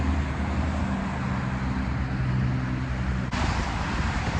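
Traffic and gusting wind on a Chicago street in January at around -20 degrees, a constant loud roar and rumble of passing vehicles with no one talking.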